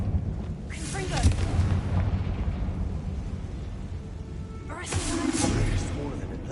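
Confringo blasting spells bursting in a Harry Potter video game, two heavy explosive blasts a few seconds apart with rumbling debris between, mixed with game voices and effects.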